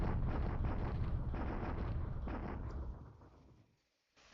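Naval bombardment artillery fire in War in the Pacific, a dense, loud rumbling barrage that rolls on continuously and then fades away to near silence, no voices.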